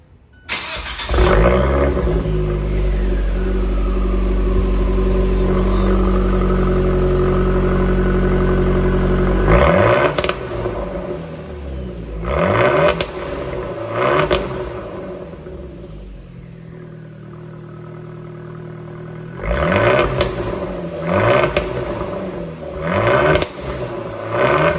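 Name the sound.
Fiat 124 Spider Abarth with Magnaflow straight-pipe exhaust revving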